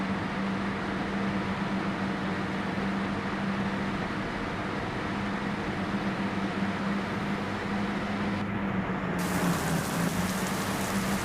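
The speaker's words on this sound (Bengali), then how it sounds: "বৃষ্টি শুরু হয়ে গেল আবারও।" Steady rain hisses down in a dense, even wash as it starts falling again, with a low constant hum running underneath throughout.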